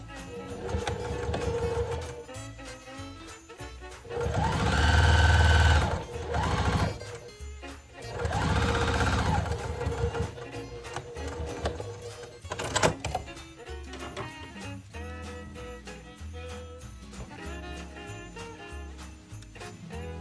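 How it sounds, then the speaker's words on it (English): A sewing machine stitches a quilted log cabin mug rug, its motor whirring in sustained bursts with rhythmic needle clatter, loud and close, alongside someone talking. "we can just go ahead and start sewing back here where we stopped, just finish going all the way down"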